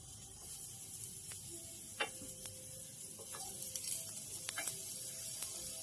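Onion and egg omelette frying in a pan gives a steady broadband sizzle throughout, with occasional light clicks and taps of a utensil against the pan.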